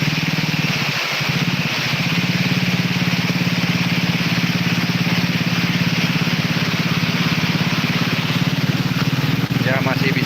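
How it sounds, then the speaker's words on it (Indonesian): A motorcycle engine runs steadily as it crosses floodwater in a flooded village in Soppeng, South Sulawesi, a constant mid-pitched drone with water splashing, and a person talks over it. "Dan motor ini, motor seperti ini saja bisa lewat ya teman-teman."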